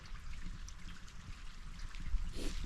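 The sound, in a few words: stream of water running down near island campsite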